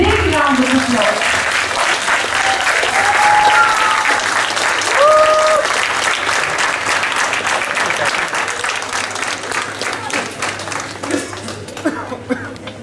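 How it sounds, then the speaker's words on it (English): A school audience gives Class 2C and 2B students a long, loud round of applause after their stage performance of Once Upon a Time, with dense, steady clapping mixed with cheers and some voices throughout. "These students deserve a big round of applause"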